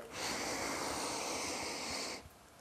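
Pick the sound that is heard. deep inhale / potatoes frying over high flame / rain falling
deep inhale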